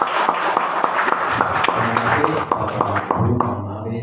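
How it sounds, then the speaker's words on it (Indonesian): Audience applause at a primary school teachers' Islamic education workshop, steady claps through dense crowd noise with some talking and background tones in the room, fairly loud and close. "Tepuk tangan untuk kita semuanya."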